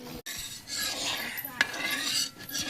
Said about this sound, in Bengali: এরকম করে অনবরত নাড়তে হবে